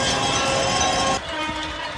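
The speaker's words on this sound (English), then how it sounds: "honking their horns." Car horns honk in a dense, sustained blare during a street protest in São Paulo, loud and continuous, then drop slightly in level partway through with no talking.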